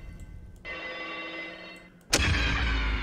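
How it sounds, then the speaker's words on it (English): A telephone rings in a video game: a sustained electronic ring tone holds for over a second, then a sudden loud, booming burst hits and carries on to the end. "I'm gonna need to listen to the phone call this time."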